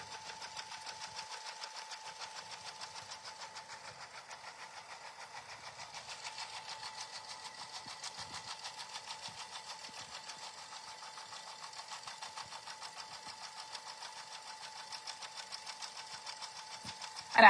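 A sewing machine quilts through the fabric layers of a small mug rug, its needle running in a steady, rapid mechanical chatter that holds at an even pace throughout, close and continuous, with a louder knock right at the end.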